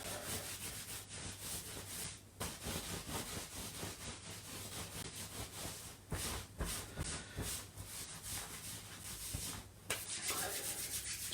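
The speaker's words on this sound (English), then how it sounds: "Rub your hands together" Palms rubbing together briskly in steady back-and-forth strokes, a dry continuous friction hiss with brief pauses between passes, close and alone.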